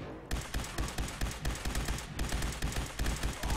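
Rapid gunfire from the video game Fallout 4 rattles in a dense, continuous burst of closely spaced shots that runs nearly the full length, loud and steady with no talk over it.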